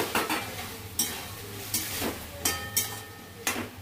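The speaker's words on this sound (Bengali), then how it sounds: "এবার আমার মোচা আলু সেদ্ধ হয়ে গেছে, আমি এবার বড়াটা মিশিয়ে দিচ্ছি।" Fritters are mixed into a banana flower and potato curry in a pan, with repeated spoon scrapes and knocks against the metal in an uneven rhythm over a low sizzle, close and clear with no voices.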